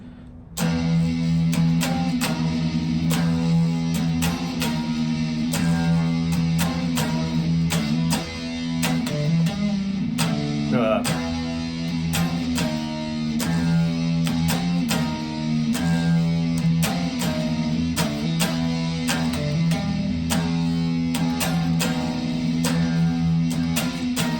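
Distorted, fuzzy electric guitar chords played in a heavy riff, with thick sustained notes and rhythmic strums.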